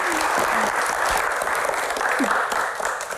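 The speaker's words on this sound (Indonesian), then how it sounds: "tepuk tangan buat Mas Adi" A studio audience applauds Mas Adi on a Q&A talk show, with steady sustained clapping from a crowd and a faint voice briefly audible beneath it.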